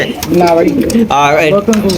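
Fancy pigeons coo close by in low, throaty, repeated calls, several overlapping within a couple of seconds; no clear speech.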